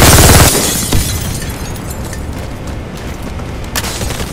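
Grenade detonation in the online shooter Warface: a loud, heavy blast opens the clip, then a long rumbling decay with scattered debris crackles and a few smaller distant thumps fading under game ambience.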